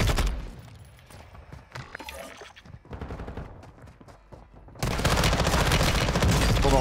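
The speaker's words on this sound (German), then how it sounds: "Warum schießt der nur auf mich?" Dense video-game gunfire on Ashika Island: rapid rattling bursts and crackling shots, close and loud, swelling into a continuous heavy fusillade near the end.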